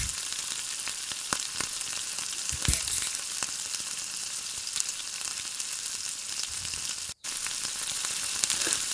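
Tomatoes softening in a covered pot on the stove for a Malabar chicken mushman, giving a steady, even sizzle throughout with no voices, broken only by one short drop in sound.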